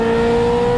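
A Ferrari 355 engine with an aftermarket exhaust holding a high rev, a loud, smooth, sustained tonal howl heard up close for under a second.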